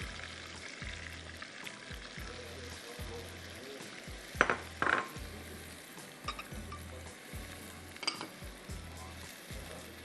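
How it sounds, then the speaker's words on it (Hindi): Chopped onions with curry leaves frying in a pan toward golden, a quiet, steady sizzle with soft rhythmic stirring thumps and a couple of brighter clinks, no talk. "प्याज को थोड़ा सा गोल्डन करूँगी"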